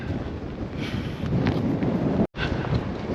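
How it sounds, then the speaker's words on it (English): Wind blowing up a mountain valley gives a steady low roar and buffeting against the microphone, close and loud throughout, cutting out briefly near the end. "You probably feel or hear the wind blowing up the valley."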